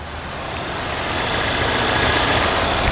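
The 2.0-liter turbocharged and supercharged four-cylinder engine of a 2016 Volvo XC90 T6 idles steadily with a smooth, even hum that swells slightly over a few seconds, heard up close with no talking.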